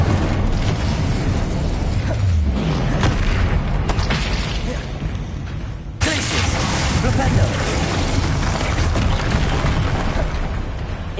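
Incendio fire spells cast again and again in Hogwarts Legacy, with loud whooshing bursts and booms in a dense combat din, voiced spell names shouted over it.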